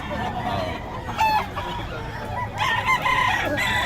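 A rooster crows twice among chickens at the Bocaue market, its calls rising over a steady, busy crowd murmur with faint voices in the background.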